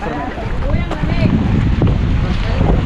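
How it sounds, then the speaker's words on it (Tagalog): Strong wind buffets the microphone in a steady, loud rumble, with a broad gusty roar that swells slightly partway through. "Lakas ng hangin, no? Grabe."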